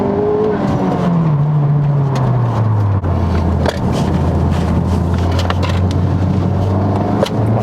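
A Honda Civic Type R FK8 in R+ mode revs loudly, the engine note dropping from a high pitch to a lower sustained drone that holds steady up close.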